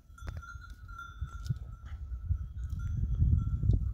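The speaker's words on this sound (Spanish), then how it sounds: "ahí van las cabras eh, que ya van para el corral" A herd of goats being driven toward a corral while out grazing, with bells ringing steadily over a low shuffle of hooves and movement that grows louder and closer.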